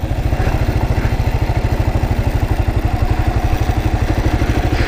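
A Kawasaki KLR motorcycle thumps steadily through turns as the rider feathers the clutch, its single engine pulsing in an even, close rhythm with wind noise over it.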